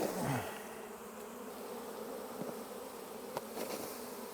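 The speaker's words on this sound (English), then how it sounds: "Great frame for nurse bees" Honey bees buzz steadily around an open hive frame during a late-summer inspection, a soft continuous drone with a few louder passes close by and no talk.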